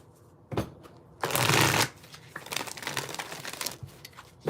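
Tarot cards being shuffled by hand, several quick riffling bursts with one long loud riffle in the middle, close up with no talking.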